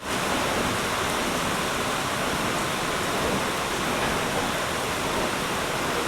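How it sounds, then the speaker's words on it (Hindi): Torrential monsoon downpour in Asansol roars as a steady, dense wash of rain, loud and unbroken from start to finish with no voices. "मूसलाधार बारिश हो रही है फिलहाल।"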